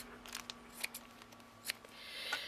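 Scissors cutting through a piece of fabric for a shabby chic flower craft, a few brief crisp snips at close range, fairly quiet with no talking.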